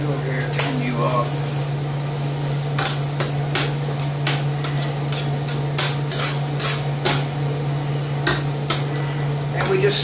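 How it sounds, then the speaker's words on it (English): Food for chicken à la king being stirred in a non-stick pan: steady utensil scrapes and taps against the pan, close and repeated, over a constant low hum and a simmering hiss, with speech at moments. "And we just stir this constantly."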